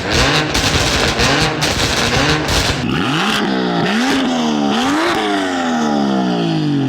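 A car fitted with a loud aftermarket exhaust revs hard up close, with a crackling, popping roar that rises and falls through several sharp throttle blips.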